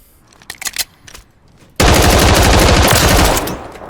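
A rapid-fire automatic weapon in the Warzone III firing range, a video game: a few light clicks and handling sounds, then a loud sustained burst of gunfire for nearly two seconds that stops abruptly.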